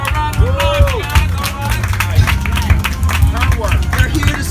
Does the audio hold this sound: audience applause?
yes